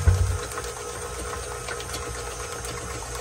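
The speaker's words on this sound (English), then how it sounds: "Now we're just going to let that mix for a second to get those eggs broken up and incorporated." An electric mixer runs steadily, beating eggs and vanilla into pumpkin sheet cake batter, a continuous mechanical whir with a brief louder thump at the start and no talking.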